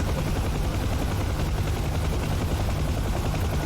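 A Huey helicopter engine in the DCS flight simulator runs with a troublesome throttle, producing a loud, steady rotor thump with rapid rhythmic chopping close up.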